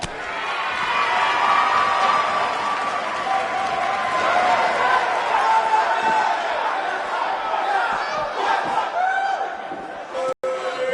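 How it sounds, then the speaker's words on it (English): A dense wrestling arena crowd in WWE 2K19 roars and cheers steadily throughout, with a commentator's voice talking over the noise near the end. "We have a sold-out, record-setting crowd here for BCW tonight."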